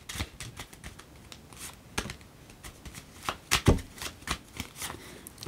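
Tarot cards being shuffled and cut by hand, close and crisp, in several quick riffling flurries with brief pauses between, the loudest burst near the end.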